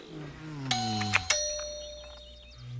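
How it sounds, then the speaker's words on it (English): A doorbell rings on a Saturday morning with a couple of bright chiming strikes, and the tones ring on and slowly fade over a low rumbling voice-like sound. "Annoyed that somebody is ringing their doorbell on a Saturday morning, Donald takes his shotgun"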